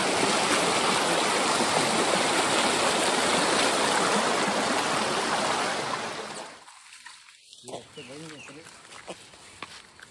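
A strong steady rush of flowing water fills the air, then drops away, leaving quieter splashing and a voice talking.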